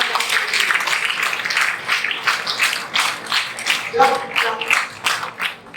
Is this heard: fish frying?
no